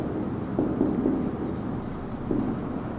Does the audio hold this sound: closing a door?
no